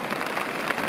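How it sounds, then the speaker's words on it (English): Steady rain pattering on a tarp at a riverside backpacking camp, a dense continuous hiss of drops close by with no voices. "I'm hoping that maybe you can hear the rain on the tarp"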